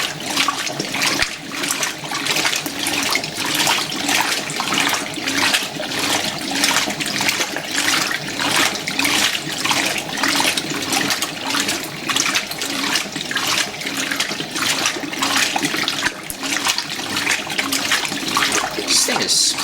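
A Fisher & Paykel washing machine agitates a normal laundry load, its exposed fins churning the water into a steady, busy splashing. The sloshing is close and continuous, with a faint voice now and then underneath.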